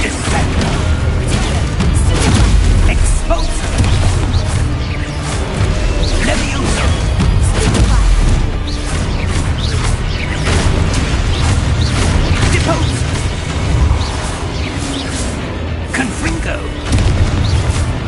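Booming spell blasts and crashing impacts from Descendo and Exposo in Hogwarts Legacy, loud and continuous with heavy low rumble, layered with battle clatter and shouted voices throughout.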